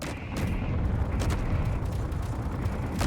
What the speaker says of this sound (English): my own turrets have just shot off my own turrets